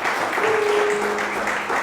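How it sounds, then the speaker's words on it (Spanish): A church congregation applauds during a service, a continuous close crowd of clapping with a faint sustained tone beneath it, steady throughout. "Vamos a darle un aplauso también a la comunidad de Facebook"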